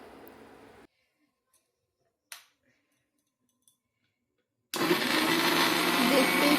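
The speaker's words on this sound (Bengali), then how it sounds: "এবারে সিদ্ধ কলাটা একটু মিক্সিতে পেস্ট করে নেব" A kitchen mixer grinder pasting boiled banana sounds as a loud, steady whirring grind that begins after a near-silent stretch with a few small clicks, preceded by a brief burst of motor noise at the start.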